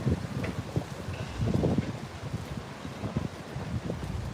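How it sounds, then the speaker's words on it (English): Wind blowing at Juno Beach, a steady rushing buffet against the microphone with irregular low gusts and faint rustling underneath, fairly loud and continuous with no voices. "It's gonna be a little windy here, guys."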